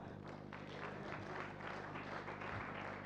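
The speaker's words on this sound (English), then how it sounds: "let's give a round of applause to our chair." A women's summit audience applauds their chair with steady, sustained clapping filling the hall for the whole stretch at even volume.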